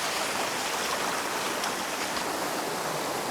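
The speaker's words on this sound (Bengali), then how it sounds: "এটা নিচের ঝর্ণা থেকে" Water pours down at Bilashi waterfall as a dense, constant rushing roar that stays even and fills the whole stretch without a break.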